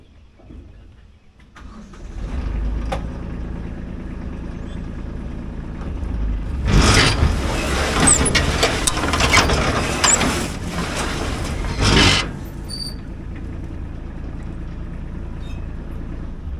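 A hay baling machine fires up and spins: a low engine rumble builds, then a loud stretch of whirring, rattling mechanism takes over for several seconds before dropping back to a steady running drone.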